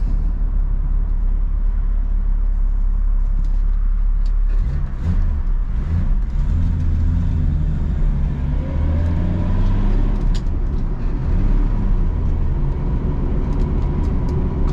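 A 1965 Ford Mustang with a manual clutch pulls away from a stop on a wet road just after rain. The close, loud engine rumbles low, then climbs steadily in pitch as it accelerates.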